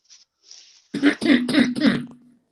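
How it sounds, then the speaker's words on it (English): A few short coughs in quick succession, close and fairly loud, after some faint breathy noise. "I heard somebody cough."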